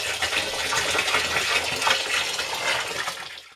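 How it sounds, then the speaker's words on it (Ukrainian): Purified water gushes steadily into a container of jam for fermenting a moonshine mash, a close, continuous pouring splash that tapers off at the end. "я додаю очищену воду"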